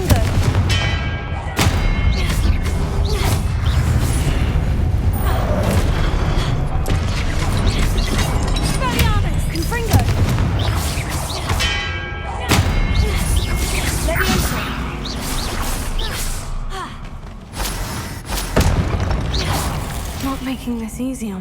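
Repeated fiery spell blasts from the Confringo curse in Hogwarts Legacy, hitting statues amid dense game effects and rumbling booms, with crashing impacts recurring across the stretch and a voice speaking over the action.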